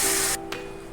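Boiled water poured into a cooking pot of young jackfruit and potato curry: a loud rushing hiss for about a third of a second, then a quieter steady wash with a brief spurt.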